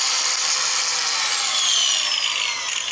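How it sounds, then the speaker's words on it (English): A grinder shapes a homemade 3/4-inch bowl gouge, steel held against the wheel with light pressure, giving a continuous bright, hissing grind that sweeps back and forth for several seconds, close up and with no talking. "just letting the grinder do its job"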